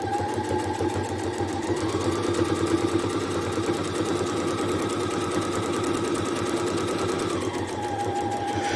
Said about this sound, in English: Now my sewing machine doesn't have an automatic thread cutter.